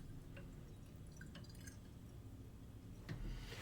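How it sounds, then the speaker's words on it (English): Deionized water is added to a glass volumetric flask in a chemistry lab, heard as faint drips and a soft trickle over a low, steady background hum, with a slightly louder splash of filling near the end. "So I'm going to add deionized water."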